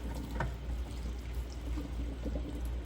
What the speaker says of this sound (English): dump out the pissy potato water